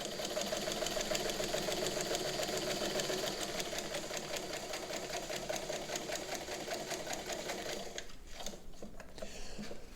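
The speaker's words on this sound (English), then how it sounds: "I'm going to now come over here and do the long stitch so you can see how the stitches appear" Mint 1950s White Model 363 sewing machine running a long stitch: a steady, fast mechanical clatter with even rhythmic ticking, close and continuous, with a brief change in tone near the end.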